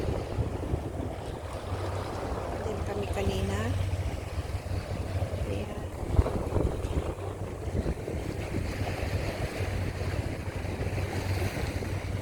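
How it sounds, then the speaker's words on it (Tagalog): Sea waves building up around a small boat off Peng Chau, heard as a steady rush of water with wind buffeting the microphone. A voice speaks briefly over it. "Lumalakas ang alon guys."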